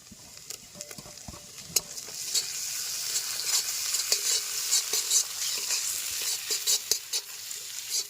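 Onion and garlic paste, ginger paste and chopped chilli fry in oil in a village-style pan, with a bright sizzle building under repeated stirring scrapes and taps of a spatula against the metal.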